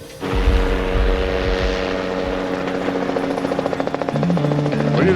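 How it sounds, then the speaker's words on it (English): A helicopter flies overhead near a jade-cutting site, its steady rotor thump and turbine drone loud and continuous, pulsing more distinctly toward the end. "What do you think that chopper's doing, Guy?"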